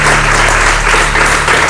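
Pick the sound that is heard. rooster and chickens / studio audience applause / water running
studio audience applause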